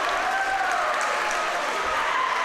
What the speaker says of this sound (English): You can hear the crowd right now, very loud.